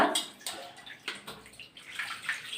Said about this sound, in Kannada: ಇವಾಗ ನೋಡಿ, ತಲೆಗೆ ನೀರು ಹಾಕಬೇಕು